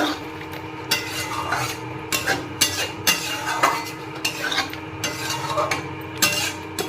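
Palak paneer masala with turmeric is stirred in a pan, giving repeated scraping and clinking strokes of a utensil against metal. The strokes come in an irregular rhythm over a faint sizzle, close by with no speech.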